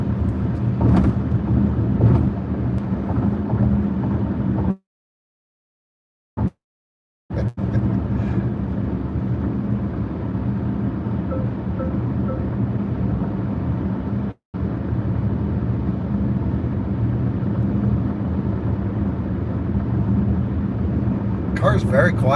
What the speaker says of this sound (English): Car's very quiet at speed. Almost no wind noise.